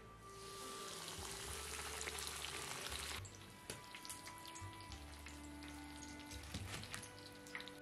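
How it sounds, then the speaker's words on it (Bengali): A second batch of KFC-style chicken deep-frying in oil: a bright, crackling sizzle is strong for the first few seconds, then drops to a softer bubbling under faint background music. "সেকেন্ড ব্যাচে আমি আবার যে কটা চিকেন আছে সব কটাই ফ্রাই করে নেব।"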